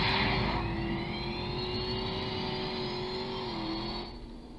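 A car engine in the Roblox driving game revving hard and holding a steady high drone for several seconds, loud and close, then easing off at the end.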